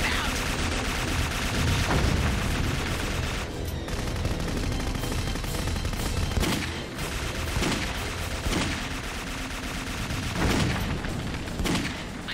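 Dense, continuous gunfire and explosions from a battle in the horror shooter Clive Barker's Jericho, loud throughout with overlapping volleys, booms and faint shouting voices mixed in.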